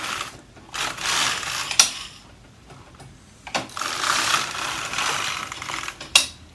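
A Superba knitting machine working two rows of Norwegian jacquard: the carriage sweeps across the needle bed in loud mechanical rattling passes, with sharp clicks at each row end and quiet pauses between passes.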